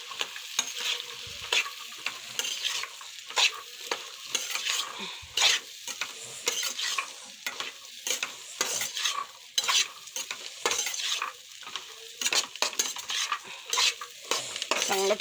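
Green peas and pea peels being stirred and fried in a pan, with soft continuous sizzling broken by frequent scraping and clinking of a spoon against the metal, close and alone.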